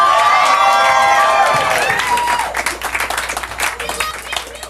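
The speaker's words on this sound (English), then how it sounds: "Round of applause for Neil." A live talk-show audience applauds and cheers for a guest named Neil, loud clapping mixed with whoops and crowd noise that swells early and then thins into scattered claps, with voices heard over it.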